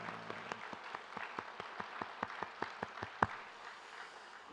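Church congregation in Korea giving a round of applause during a service, with a series of distinct, fairly evenly spaced claps in a loose rhythm, moderately loud and heard without talk over them.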